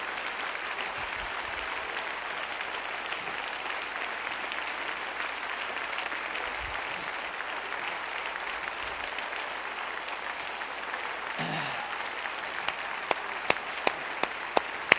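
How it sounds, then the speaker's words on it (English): Church congregation clapping together in praise, a broad, even patter of many hands sustained throughout, with a few sharper, louder claps standing out near the end. "let's take our hands and give God a hand clap of praise together"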